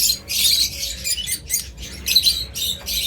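Caged breeding birds at night, squawking and chattering in shrill, rapid bursts close by, with short pauses between the outbursts.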